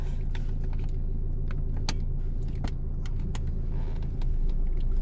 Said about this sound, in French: Là, c'est un diesel, écoute